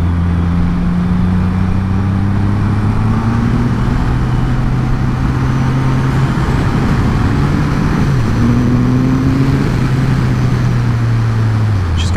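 A Triumph Rocket 3R motorcycle engine pulls hard on a country road near a one-lane bridge, a loud, close, continuous growl whose pitch climbs and shifts as it accelerates through gears, with wind noise over it.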